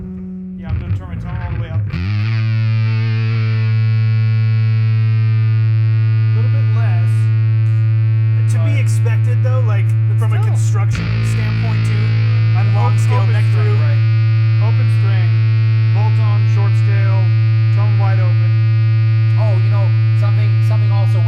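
An electric guitar note sustains through an EHX Big Muff Pi fuzz pedal with a thick, saturated tone that hardly decays. Hum sits underneath, and the note is briefly re-struck or shifted partway through before ringing on.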